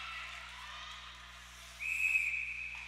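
A referee's whistle during a women's hockey game sounds as one sustained blast in the second half, fairly clear over the low murmur of the arena.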